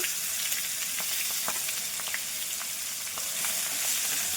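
Steady sizzling of a paste frying in a hot pan, with occasional soft pops and crackles, close and continuous.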